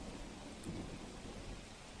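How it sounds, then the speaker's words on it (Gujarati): Heavy monsoon rain pours steadily over flooded roads in Ahmedabad's Anand Nagar area, with low thunder rumbling beneath the constant loud hiss of the downpour; no voices. "હજુ તો અડધો કલાકનો વરસાદ જ શરૂ થયો છે, પાણી ભરાઈ ગયા છે રોડ પર"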